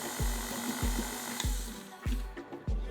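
A stand mixer beating cake batter for a lemon blueberry cake, a steady motor whir with regular low thumps as the beater knocks around the bowl, close and fairly loud.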